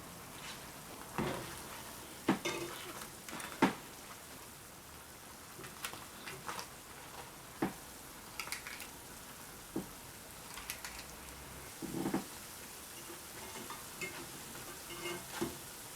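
Caribbean saltfish fritters fry in a pan of oil, a soft, steady crackling sizzle with occasional louder pops and utensil taps.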